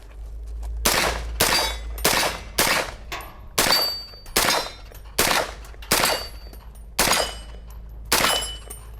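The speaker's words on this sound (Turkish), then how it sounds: "İlk defa 9 mm bunu sıkıyorum." About ten loud, sharp shots from a 9 mm pistol fire one after another at a steady, unhurried pace, each crack followed by a short decaying tail, aimed at small hanging metal targets.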